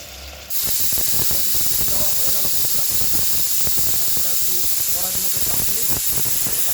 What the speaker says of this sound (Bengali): দিয়ে দেব একটু গরম জল। পিসগুলো কী চালার দেখতে হবে না বন্ধুরা। ফাইনালি জল দিয়ে দিলাম।